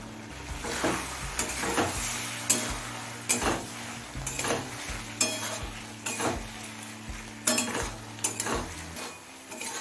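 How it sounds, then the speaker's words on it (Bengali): Potatoes and eggplant cooking over a high gas flame, stirred in bursts: soft sizzling under clinking, scraping strokes of a utensil against the pan, several distinct stirring passes with short pauses between. "গ্যাসের ফ্লেমটা হাইতে করে দিয়ে একটু নাড়াচাড়া করে নিলাম"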